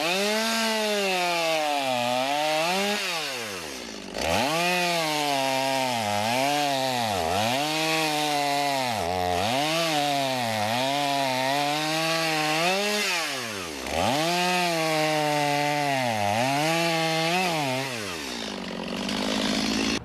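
A chainsaw bucks firewood logs to equal 18-inch lengths, its engine rising and bogging through repeated cuts with harmonic revving swoops, a few brief dips between cuts, loud and near throughout.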